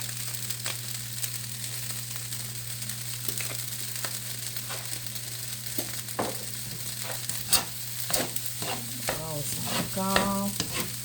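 Rice being stirred and fried in a pan for a Chinese buffet-style dish with onion powder, a steady low sizzle under repeated scraping strokes of the spatula, close and moderately loud.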